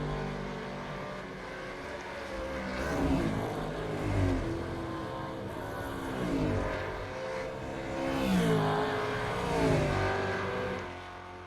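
Supercars racing flat out in a racing video game, engines roaring continuously with repeated surging revs and gear changes, several cars close together at high speed.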